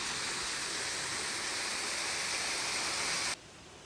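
Steady, dense rushing water from a waterfall fills the clip at close range, a loud continuous broadband roar that drops off abruptly near the end.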